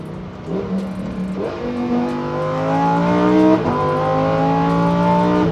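Lamborghini engine revving hard through downshifts, loud nearby blips with pitch jumping between gears and a climbing howl, heard alone without talk.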